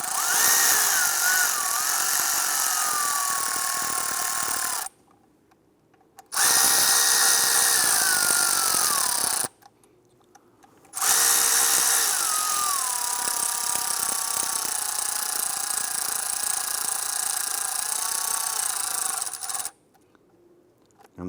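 A power tool whirs steadily while tightening thermostat housing bolts on a Cadillac Escalade, running in three long, loud bursts with short silent pauses between them and a pitch that drops as each bolt tightens.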